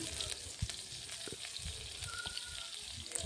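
Chopped onion and ginger-garlic paste frying in a pan, a steady close sizzle broken by scattered pops and stirring clatters.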